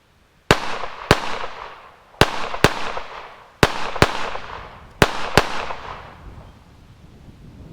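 Eight sharp gunshots from old, neglected ammunition ring out in irregular pairs, each crack loud and close with a short echoing tail, and no voices between them.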